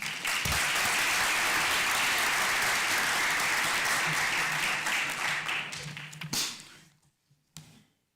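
Warm applause from a meeting audience welcoming past presidents at a State Bar of Georgia board meeting, steady and full for several seconds, then tapering off into a few scattered claps.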